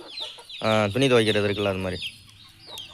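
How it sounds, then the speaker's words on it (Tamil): Chicks clucking as they roam around a yard beside fish being cleaned, soft fowl calls heard faintly under someone speaking in Tamil. "கோழி குஞ்சுகள் சுற்றி வந்து கொண்டு இருக்கிறது."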